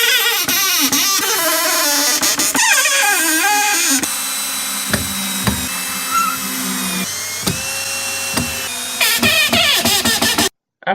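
A power drill whirs loudly and drives 1.5-inch screws into a plywood and 2x2 frame, with repeated bursts of rising motor whine and brief pauses between screws, close up.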